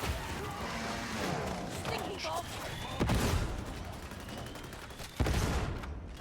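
Grenades bursting in Warhammer 40,000: Darktide: loud chaotic combat noise with two sharp, heavy blasts standing out near the middle and end, under continuous clatter and a speaking voice.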